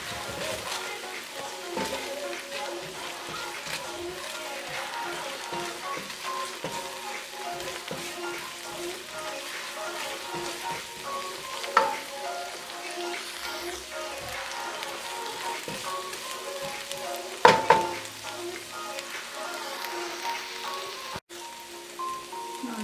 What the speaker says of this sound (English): Just let your garlic